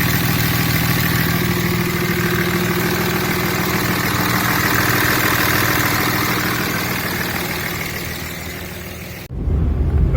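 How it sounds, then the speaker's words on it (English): A 6.7 Cummins diesel fitted with an S&B cold air intake idles steadily, a loud, close, continuous low rumble with a faint whine above it, dropping off abruptly near the end. "Here we are, engine running."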